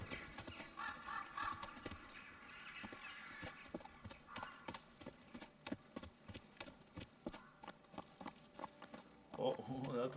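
In the medieval game Kingdom Come: Deliverance II, a horse's hooves clip-clop in a quick, steady rhythm, with a brief neigh near the end and someone talking over it.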